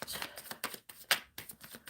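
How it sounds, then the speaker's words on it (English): Tarot cards are shuffled by hand in a steady run of crisp riffling bursts, close and fairly quiet, with a brief sharper snap midway and no voice over them. "Shuffling for Jagpreet Gil Vlogs and Sanchit."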